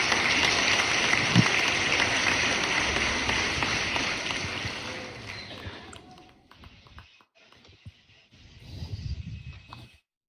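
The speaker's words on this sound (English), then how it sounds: "Well, thanks for clapping." An audience claps after an architecture presentation at a VR/AR meetup. A dense wash of clapping fills the first half, then thins and dies away, followed by quiet and a brief small burst near the end.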